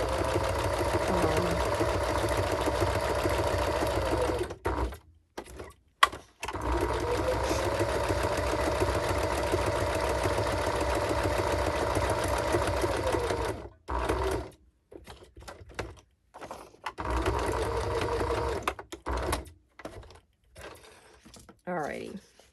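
A sewing machine runs in long steady stitching bursts while a pink shabby trifold journal card holder is being made, its whirring hum stopping and starting with brief gaps and a few quieter pauses.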